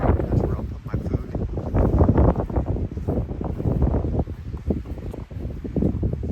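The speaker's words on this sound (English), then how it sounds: "So windy." Strong wind on the Appalachian Trail at Grayson Highlands buffets the microphone in heavy, uneven gusts, roaring loudly close up, with a voice speaking briefly underneath.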